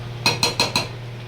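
Mutton being worked with salt in a pan, heard as four quick metallic clinks of a spoon striking the pan in an even rhythm, close and fairly clear, then a quiet tail.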